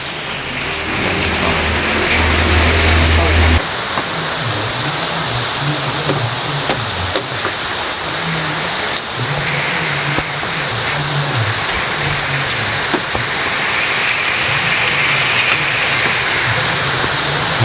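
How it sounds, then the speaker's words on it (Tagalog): Heavy rain pours steadily with gusting wind as Typhoon Pepito arrives, a dense, continuous wash that stays loud and close throughout, with a low rumbling undertone and no voices. "Medyo malakas na po yung ulan. May hangin-hangin na din. Dala ng bagyong Pipito."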